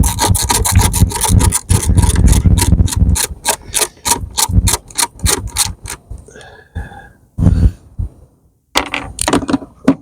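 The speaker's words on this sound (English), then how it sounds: "All right, and undo this 10mm bolt." A ratchet undoes a 10mm bolt on a Hyundai Ioniq Hybrid with rapid, loud clicking strokes up close, then slower intermittent clicks with brief pauses.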